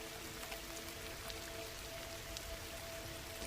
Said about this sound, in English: just listen to that rain.